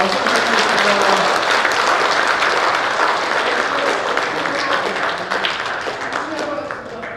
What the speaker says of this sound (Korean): 저는 박수 부탁드리겠습니다